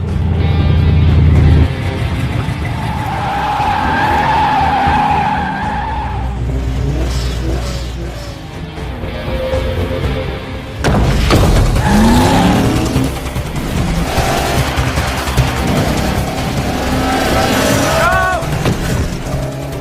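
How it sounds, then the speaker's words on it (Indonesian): Race cars roar off the line at the start of a street race, with engines revving and tires skidding loudly throughout, all mixed under a narrator's voice. "Dan kemudian balapan pun dimulai."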